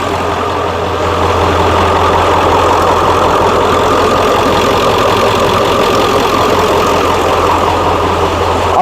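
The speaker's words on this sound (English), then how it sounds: "Idling smooth." Close, loud 7.3 diesel truck engine with rebuilt fuel injectors idling smoothly, a constant throbbing rumble that holds steady throughout.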